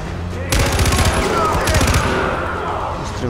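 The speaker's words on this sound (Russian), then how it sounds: "Выстрел в голову." A burst of rapid automatic gunfire in the video game Far Cry 4, loud and close, rattling for over a second before fading into a lingering rumble; game-like combat sound.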